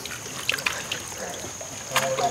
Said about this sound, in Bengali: ঝর্ণার জল এসে এই রাস্তার মধ্যে দিয়ে যাচ্ছে